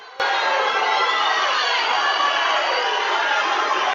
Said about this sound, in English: this crowd is coming alive